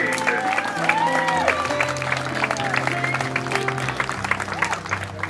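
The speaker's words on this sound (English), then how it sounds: "a very big round of applause for the 2015 Washington State runner-up" A crowd applauds and cheers for a Little League all-star team from Redmond North, continuous clapping throughout, with a announcer's voice and tonal music running over it.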